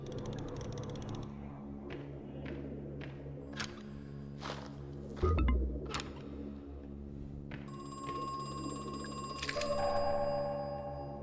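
In the horror game Crow Country, a telephone rings in bursts among scattered footsteps and faint in-game knocks, with a louder thud midway. A high electronic ring returns near the end.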